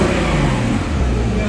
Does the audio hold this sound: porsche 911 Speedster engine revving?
yes